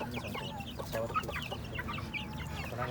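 Thai chickens cluck and chatter nearby in a steady, busy flock, with quiet farmyard background noise and no talking.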